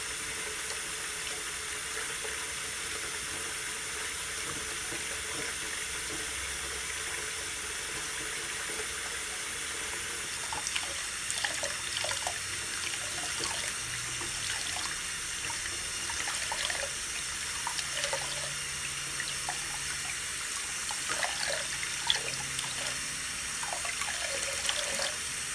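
A foam polishing pad being rinsed under a running tap, steady hissing water flow with intermittent splashing and trickling as the pad is worked under the stream, close and moderately quiet, no voices.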